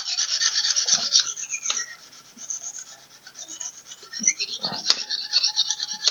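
A knife blade rasps steadily across a red stone on a Molibao guided sharpening system, the close, scratchy strokes running back and forth in long passes with a brief lull midway.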